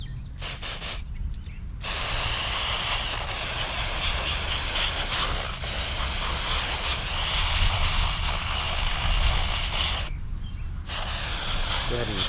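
A can of WD-40 electronics parts cleaner sprays a Subaru SVX mass airflow sensor outdoors on grass, a loud, close, continuous hiss for about eight seconds after a few short bursts, ending with another brief pause.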